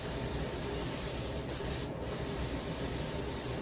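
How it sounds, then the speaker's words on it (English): Olive oil cooking spray hisses out in a steady, close aerosol blast, with one brief gap before spraying resumes. "I just use olive oil spray."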